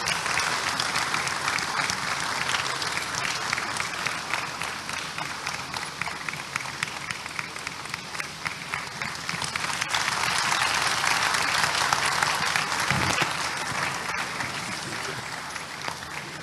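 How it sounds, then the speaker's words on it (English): A large audience at a conference opening ceremony applauds Dr. J.Y. Mahama, a dense, steady wash of clapping sustained throughout at moderate distance. "Please let's recognize him with a round of applause, please."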